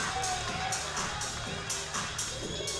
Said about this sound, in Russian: Вот опять итальянская группа итальянских болельщиков поддерживает.